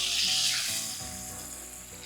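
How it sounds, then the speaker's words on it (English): A cup of half and half poured into a hot pan of browned meatball drippings, a loud burst of close hissing sizzle that slowly settles over two seconds. "now to our pan, I'm going to add 1 cup of half and half."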